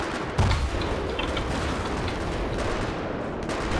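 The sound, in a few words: gunfire in the video game Battlefield 3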